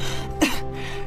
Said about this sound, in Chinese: 这时房间里传来咳嗽声